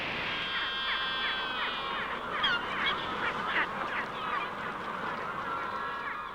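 Penguins on Deception Island in the sub-Antarctic give harsh, honking brays in rapid overlapping bursts over a steady wash of surf, the calls fairly close and prominent.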